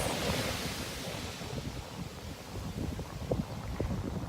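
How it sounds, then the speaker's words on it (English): Ocean surf washing ashore at Smith Bay, St. Thomas, as the tide comes in, a steady broad rush, with wind buffeting the microphone throughout. "Oh, the water's coming closer. It is. The tide's coming in closer. Can you hear that?"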